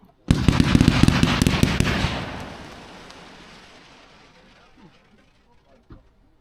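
A Dominator Gold Strobe Willow Tail firework slice erupts suddenly into a loud, dense crackling burst that fades over several seconds into a faint, scattered tail of pops.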